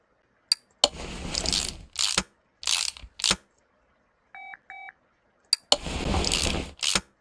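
Car parts are refitted in the video game Car Mechanic Simulator 2018 as the engine belts go back on, a series of short ratcheting clicks and mechanical bursts with a pair of small beeps between them.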